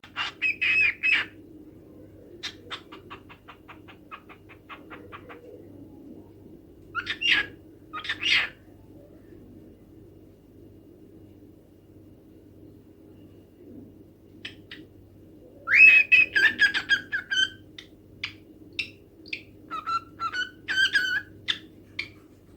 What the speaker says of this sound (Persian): در ابتدا پرنده ها از خودشون صداهای نامفهومی در میارن، ولی به مرور این صداهای نامفهوم تبدیل به لغات مفهوم و واضحی میشه.